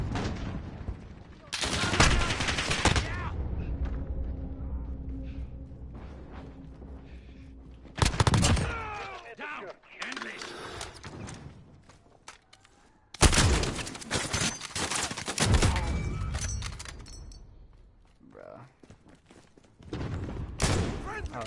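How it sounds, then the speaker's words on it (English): Bursts of gunfire in Call of Duty Warzone arrive in several loud, separated volleys with quieter gaps between, some sharp and close, under occasional talk. "Stop shooting!"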